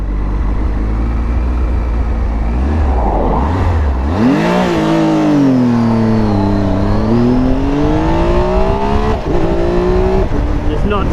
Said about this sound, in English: I'll show you what the acceleration is like.